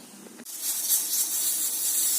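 Steam hisses steadily from a pressure cooker boiling salted chickpeas on a stove, a loud, continuous high hiss that starts abruptly after a brief low sound and holds to the end.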